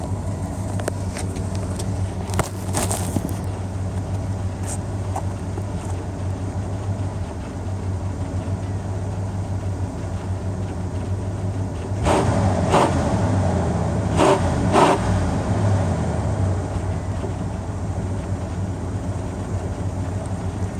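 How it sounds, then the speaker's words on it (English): A Cadillac Fleetwood Coupe Deville engine heard from the rear of the car: a steady idle rumble, then a cluster of sharp revs near the end before it settles back to idle. "I'm going to set the camera down so I can rev it up a little bit for you so you can listen to it from the back end"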